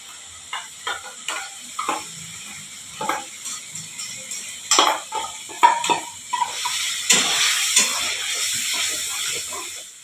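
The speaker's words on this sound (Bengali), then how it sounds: "এবার আদা আর রসুন বাটাটা দিয়ে দেবো।" Ginger-garlic paste fries with onion in a pan for a methi paneer curry, a steady sizzle and hiss under repeated spatula scrapes and clinks against the pan.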